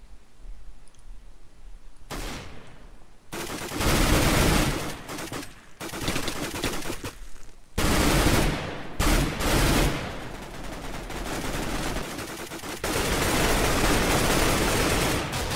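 P90 submachine gun fire in a Minecraft recreation of CS:GO, loud rapid bursts separated by short pauses, with game noise in between and no talking.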